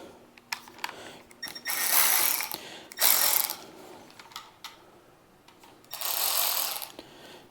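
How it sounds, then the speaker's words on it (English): Milwaukee M12 3/8-inch ratchet clicking in short bursts, with several quick runs of ratcheting separated by pauses, close and fairly loud, with no talk. "So this is the 3/8 ratchet."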